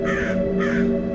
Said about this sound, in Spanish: todos los cuervos comenzaron a cantar a la vez